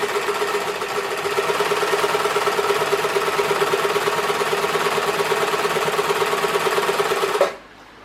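Old, loud sewing machine quilting a two-inch seam on a quilt-as-you-go piece, a fast steady mechanical chatter running continuously and close for about seven seconds before stopping abruptly.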